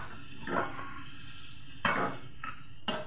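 Washed, dried rice dry-roasting in a pan, with a few separate scraping stirs of a spoon through the grains at irregular intervals, close and moderately loud over a steady hiss.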